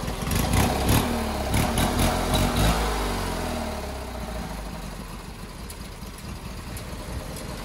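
A horizontally opposed twin-cylinder engine in Microsoft Flight Simulator 2020 runs at a steady idle. The near, loud drone eases slightly and settles lower after a few seconds.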